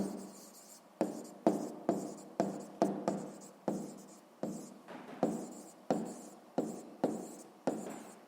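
Pen or chalk scratching out a sixth-grade math equation solution, a steady run of short rhythmic strokes with brief pauses between them, close and fairly quiet with no talk.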